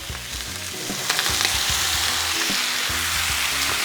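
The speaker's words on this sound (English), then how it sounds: "So I'm gonna just keep sauteing these" Mushrooms sauté in a pan with garlic and wine, giving a steady, close sizzle with scattered stirring clicks and no talk.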